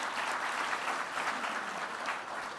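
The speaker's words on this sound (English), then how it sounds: "Let's give him a big round of applause" A crowd at a youth parliament debate claps steadily, dense and continuous applause filling the whole moment without a break.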